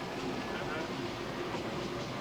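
A train locomotive rumbles along the rails with a steady, loud low roar and dense mechanical noise throughout, heard up close with no clear voices over it.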